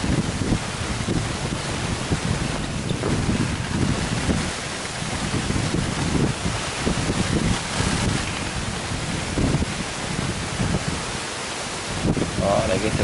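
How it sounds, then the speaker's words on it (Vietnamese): Strong storm wind and crashing waves at sea aboard a small anchovy fishing boat, a dense continuous roar buffeting the microphone with steady surging gusts close by. "dông rồi à, gió nữa dữ dằn luôn quá trời luôn"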